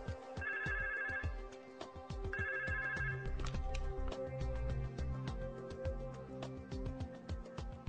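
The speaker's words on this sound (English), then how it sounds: "we're calling the trunk number to the MyPBX, and then we'll be dialing extension 8007 following the prompt" Repeated telephone rings on a call placed to the trunk number of a MyPBX U100 phone system, clear electronic ring bursts over a busy, dense background with overlapping tones.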